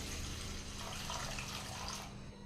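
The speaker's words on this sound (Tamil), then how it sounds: "இப்போ ஒரு 2 டம்ளர் அளவு தண்ணி சேர்த்திக்கலாங்க." Water is poured from a tumbler while parotta dough is being prepared, a steady splashing pour running continuously for a couple of seconds before tapering off, with no talking.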